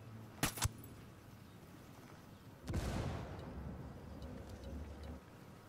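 A frag grenade detonates in the video game Ghost Recon Wildlands, a sudden heavy blast with a rumbling tail that fades over a couple of seconds, preceded by two sharp clicks.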